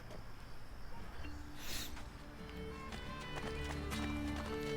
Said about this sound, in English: Chase down Mario's horse.